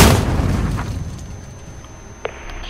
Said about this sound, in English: They're shooting people.